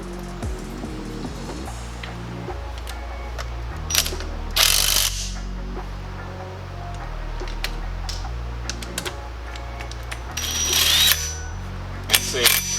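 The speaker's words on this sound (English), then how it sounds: "Now I gotta torque it. Click. That one works." Torque wrench ratcheting and clicking on bolts of a Honda Forza scooter during a drive belt replacement, sharp mechanical clicks and bursts of ratcheting close up, with someone talking over parts of it.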